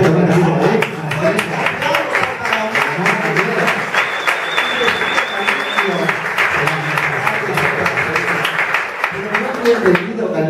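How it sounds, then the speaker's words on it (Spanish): Studio audience at a television variety show applauds steadily, a dense, continuous wash of clapping lasting throughout while a host speaks over it. "¡Fuerte el aplauso!"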